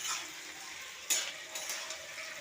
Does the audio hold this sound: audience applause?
no